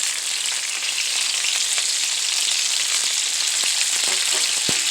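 Turkey wings sear in a hot pan with a steady, close, loud sizzle and a scattering of sharper pops and crackles toward the end; nobody speaks.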